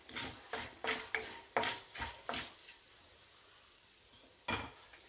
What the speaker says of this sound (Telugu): ఎండుమిర్చి కూడా ఒక నిమిషం పాటు ఫ్రై చేసుకోవాలి